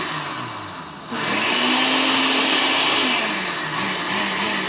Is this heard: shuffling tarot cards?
no